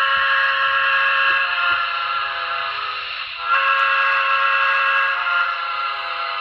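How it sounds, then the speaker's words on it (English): A Reading and Northern steam locomotive whistle on an N scale model sounds in a long, steady, chord-like blast, dipping briefly near the middle before resuming at full strength, with faint low rumbling underneath. "let's take a listen to the whistle"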